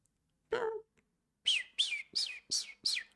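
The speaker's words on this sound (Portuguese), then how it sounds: "There's a bird twittering here at the window." A small bird twittering at a window gives five quick, bright chirps in a steady run, close and clear, after a single brief sound at the start.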